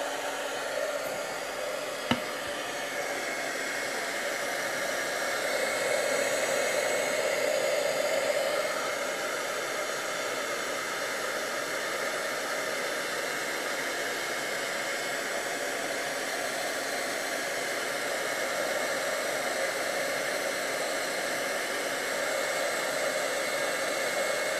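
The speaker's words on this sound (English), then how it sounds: "hit it with the heat gun" Heat gun blowing over fresh milk paint, a steady close airy roar that runs unbroken throughout, with a single faint click near the start.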